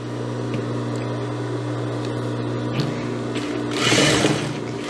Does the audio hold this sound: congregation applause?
no